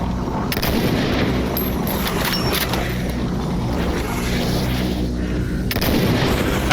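Gunfire in the shooter game Stalker Anthology, a dense, steady barrage of shots and booms filling the whole stretch at close range with no talking.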